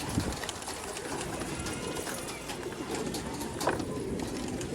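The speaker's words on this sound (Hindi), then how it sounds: "कबूतर सारे मस्त हो रहे हैं, गूंज रहे हैं" A flock of pigeons cooing steadily, soft overlapping coos close by with a few louder calls and flutters.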